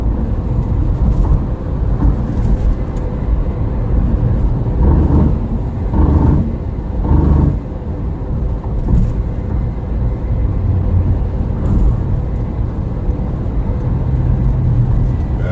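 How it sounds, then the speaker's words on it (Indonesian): Traffic on the Semarang-Batang toll road, cargo trucks among the vehicles, rumbles past steadily with several louder pass-bys swelling and fading, close and continuous, without speech. "Sekarang arus lalu lintas kembali ramai meskipun tidak padat, hanya ada beberapa kendaraan angkutan kargo"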